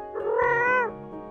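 A single clear meow from a cat, rising then falling over about half a second, close and alone.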